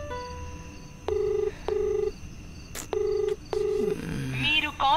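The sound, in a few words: phone call ringing, unanswered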